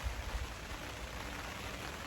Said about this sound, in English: Yeah, that's rain.